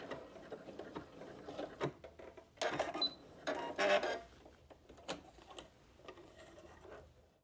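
A sewing machine runs back stitches along stretch fabric for fingerless gloves, giving short bursts of rapid mechanical ticking and whirring with brief pauses between runs, close and moderately loud.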